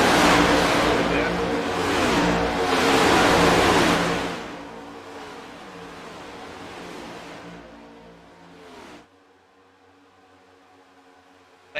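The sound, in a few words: race car engine sound on broadcast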